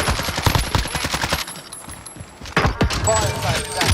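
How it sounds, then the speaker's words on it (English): Hostile gunfire in Call of Duty Warzone: rapid bursts of automatic fire crackle loudly, pause briefly, then resume with a sharp cluster of shots, up close and punchy. "Receiving hostile fire."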